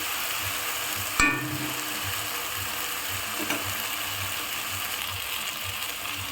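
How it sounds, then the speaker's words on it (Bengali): Masala spices fry in a pan for a home-style tarka, giving a steady close sizzle throughout, with one sharp metallic clink early on. "মশলাটাকে ভালো করে ভেজে নেবে"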